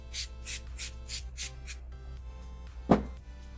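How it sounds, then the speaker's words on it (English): Several short hissing sprays from a facial mist bottle in a quick regular series, followed by a single sharper spritz after a pause. "I would get a facial mist and spray it on my face."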